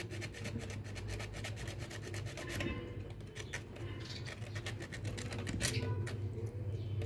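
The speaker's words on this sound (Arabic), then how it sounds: "اصنفر الجنب التاني برضو" Sandpaper rubs back and forth on a part of an electric blender, giving a steady, fast, close scratchy rasping with a quick rhythm that continues throughout, fairly quiet and with no talk.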